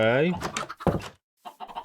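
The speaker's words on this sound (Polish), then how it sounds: "Kurczaki oczywiście, jak się tylko da, to e, rozmnożymy." Chickens in the Minecraft video game give short clucks with a few brief pauses, close and moderately loud, mixed with the sound of a player speaking.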